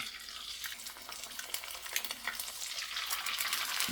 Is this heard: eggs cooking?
yes